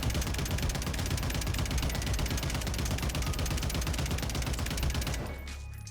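Rapid sustained automatic gunfire from a Call of Duty weapon fitted with a semi-compensated flash hider, loud, close and continuous for about five seconds before cutting off abruptly.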